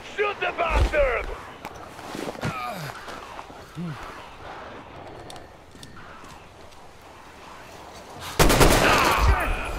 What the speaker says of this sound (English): Come on, shoot the bastard!